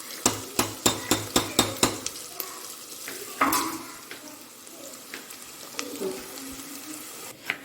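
Cumin seeds and onions fry in a pan, opening with a quick run of about eight sharp, evenly spaced utensil clicks, then settling into a steady close sizzle with scattered scrapes and taps.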